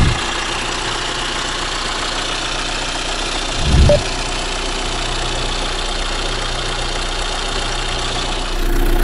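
A Renault Master van's engine idles loudly and steadily up close with a slightly knocking, rough rumble. There is a brief louder bump midway and a swell near the end, and no one speaks.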